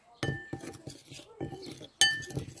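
A spoon stirs ginger, turmeric and paprika into a Moroccan chicken and vegetable tagine, giving a few separate clinks and scrapes against the pot. One sharp ring stands out near the end, close and fairly quiet.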